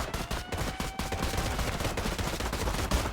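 Gunfire in a video game rattles on continuously, dense rapid automatic bursts and overlapping shots that stay loud and busy throughout.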